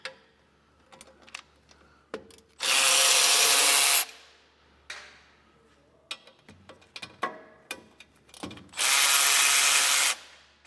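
Power tools spin out bolts on a truck's rear suspension while an Air Lift LoadLifter 5000 Ultimate air helper spring kit is installed on a 2024 vehicle: two sustained, loud bursts of the tool amid scattered clanks and ratchet clicks.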